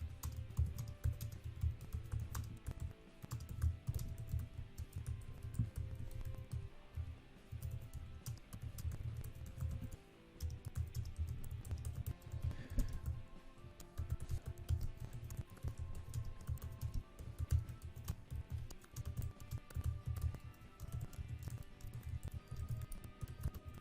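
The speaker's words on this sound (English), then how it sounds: "Let me continue typing." Steady typing on a computer keyboard, with quick irregular clicks of keys continuing for the whole stretch, close and fairly quiet, with only brief pauses and no talking.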